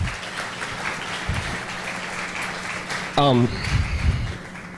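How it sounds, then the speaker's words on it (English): Church-style audience applause for a speaker named Andrew, a sustained crowd clapping that runs underneath speech, with a brief vocal burst partway through. "would you give Andrew a round of applause?"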